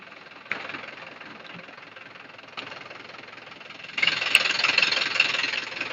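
A tractor engine runs at a steady idle with a knocking, mid-pitched drone, moderately loud and continuous, with a couple of sharp clunks before it grows louder in the final two seconds.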